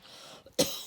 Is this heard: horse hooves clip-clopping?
no